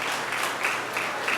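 Steady, dense applause from an audience at an elementary school fifth grade graduation ceremony, continuous and even throughout with no voices over it.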